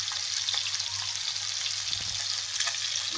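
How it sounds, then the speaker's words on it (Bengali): Tilapia fish frying in oil in a pan, a continuous, close sizzle and hiss with faint crackles and a soft clink around the middle, no voices. "আর এইখানে এই দেখুন মাছ ভাজি করতেছি।"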